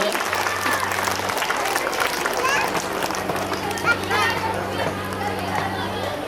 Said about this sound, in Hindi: ताली बजाकर आप लोग मेहमान का स्वागत करें।